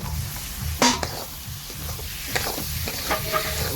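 Bengali-style chicken curry with potatoes cooks in a pan, giving a steady close sizzle and frying hiss, broken by a few sharp clinks and scrapes as a utensil stirs against the metal.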